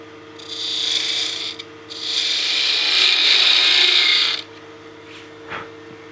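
A wooden spinning top turning on a wood lathe, with a close, steady motor hum and a loud rasping scrape of tool or abrasive against the wood in two long passes.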